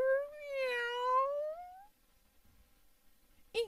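A single drawn-out, rising-then-falling meow, clear and close, followed by quiet and a brief sharp chirp at the end.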